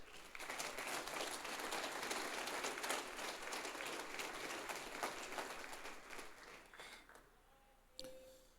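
A church congregation applauds during a Portuguese-language sermon, a fairly quiet wash of many hands clapping that swells, then thins and fades out, ending in a few scattered claps.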